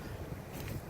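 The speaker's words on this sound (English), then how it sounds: "as of this recording, it's super windy outside" Strong wind buffets the microphone outdoors, a low roaring rumble with gusty swells and no voices.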